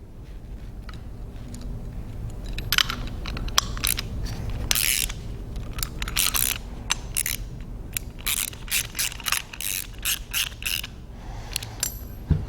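Metal stem guide threaded back into a Cla Val 55L-60 fire pump casing pressure relief valve during a rebuild, giving a series of close, irregular ratcheting clicks and creaky scraping bursts with no talk.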